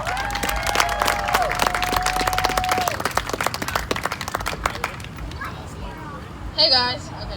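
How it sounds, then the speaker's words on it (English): An outdoor crowd at a multicultural George Floyd march in Carbondale, Illinois claps and cheers after a speaker is introduced, dense applause for a few seconds that thins out, with voices and a short squeal late. "Let's give her a round of applause."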